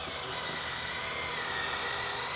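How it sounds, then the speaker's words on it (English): Power drill boring the second hole for a carriage bolt through a wooden picnic table, a steady high whine held loud and close for the whole short stretch. "And then you drill the second hole."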